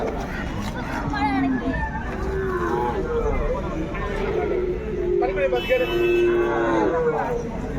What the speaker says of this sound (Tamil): இங்கே பாருங்க ஒரு பசுவை பாருங்கள்